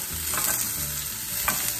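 Onion frying in lard with beans, a brief close sizzle with a couple of stirring scrapes.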